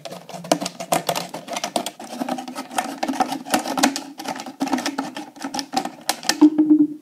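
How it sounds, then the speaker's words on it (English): Sharp scissors snip around a plastic bottle to remove its top, giving a dense run of close, rapid crunchy clicks that continue steadily throughout. "using your sharp scissors, cut around to remove the top of the bottle."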